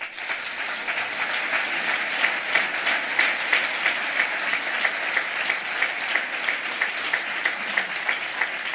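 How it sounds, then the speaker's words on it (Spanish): A crowd claps steadily throughout an event for the Spanish Socialist Party led by Pedro Sánchez, a dense, even wash of applause with no break or pause. "Y por él también pido un aplauso."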